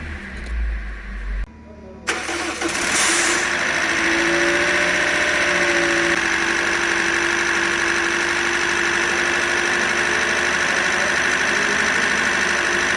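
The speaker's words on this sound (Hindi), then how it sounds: "इंजन के अंदर से ये आवाज़ आ रही है।" A Toyota Corolla 2ZR-FE 1.8L engine with an internal fault runs with a loud, steady abnormal knocking noise, heard close up after a brief start, continuous and without talk.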